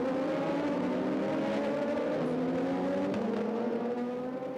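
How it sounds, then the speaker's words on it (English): Several Radical race cars weave on a pace lap, their engines droning together in a loud, sustained, overlapping whine that rises and falls slightly as the cars swerve. "Drivers just weaving the cars back and forth, trying to get a little bit of surface temperature into the hand-cooked rubber"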